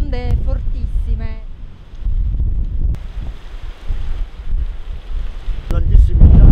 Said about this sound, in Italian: completamente sommersa dall'acqua del mare che arriva con delle onde fortissime